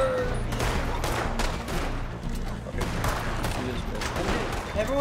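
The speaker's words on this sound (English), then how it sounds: "Everyone's shooting and I'm just sitting here" Dense overlapping gunfire from many players in a multiplayer cowboy video game, rapid continuous shots at moderate distance filling the scene with steady crackling bursts.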